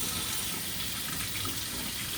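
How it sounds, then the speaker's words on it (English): Water runs from a sink tap in a steady, close hiss and splash while hands are about to be washed before cooking oatmeal, constant and unbroken without any talking. "Let the water run a little bit till it gets warm."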